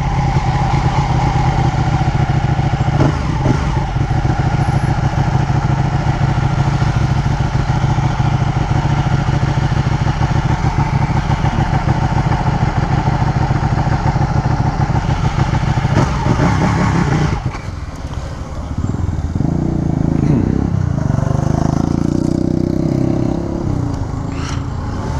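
Ducati Panigale 1299 motorcycle engine running loud and close, held at high revs for a long stretch, then briefly dropping before revving again.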